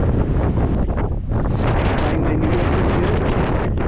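Heavy wind on a Cape Dauphin mountain top buffets the microphone continuously, a loud roaring rumble with gusty surges and no pauses.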